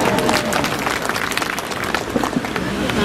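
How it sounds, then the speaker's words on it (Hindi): At a BJP campaign rally in Kangra, a large crowd claps in a loud, dense burst, with scattered voices and crowd noise mixed into the uneven clatter. "जनता तालियां पीट रही"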